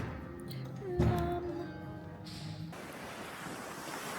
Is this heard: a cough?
no